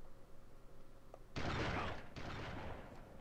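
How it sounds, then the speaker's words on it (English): Two close, loud shotgun blasts boom in Army Men: Sarge's Heroes, a second apart, each leaving a brief rumbling tail above a quiet game background. "I nearly got shotgun blasted straight in the chest"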